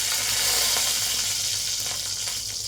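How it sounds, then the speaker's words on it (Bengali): Dried red chillies sputter and sizzle in hot oil left from frying paneer, a steady close crackle with no talking. "এবার এই তেলের মধ্যেই ফোড়ন দেব হচ্ছে"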